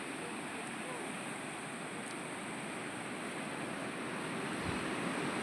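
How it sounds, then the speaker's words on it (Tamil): Floodwater rushes down the Vaippar river in a steady, loud, broadband roar that stays constant throughout, with no speech heard. "வைப்பார் ஆற்றில் சீறி பாய்ந்து செல்லும் வெள்ளம்"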